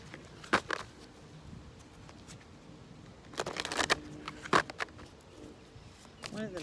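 Tarot cards are shuffled in brief riffling bursts, soft and close, separated by quieter handling sounds, while a voice talks faintly in the background.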